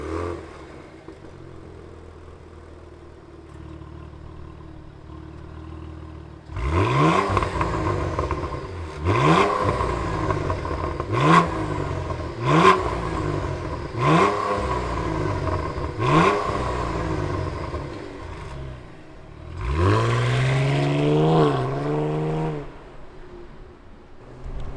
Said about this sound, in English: let's fire up this CT4-V Blackwing and hear what it sounds like